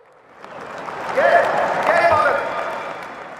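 An audience at a political rally applauds, with clapping swelling over about a second into a dense, sustained burst that holds steady and then eases slightly.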